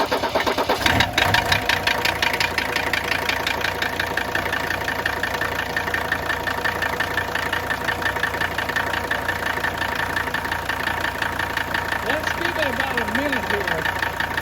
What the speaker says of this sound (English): now I'm going to start the engine, and I'm going to run straight diesel purge through the injection system